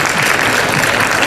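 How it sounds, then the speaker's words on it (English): Audience clapping after a skincare talk, a dense, loud burst of applause from a seated crowd filling the short stretch. "A big round of applause for Mr. Trevor Steyn, Esse Organics."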